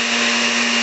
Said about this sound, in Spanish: Acá vamos a licuar.